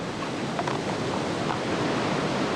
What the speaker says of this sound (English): the stretch of the river which funnels the water to the treacherous Conwy Falls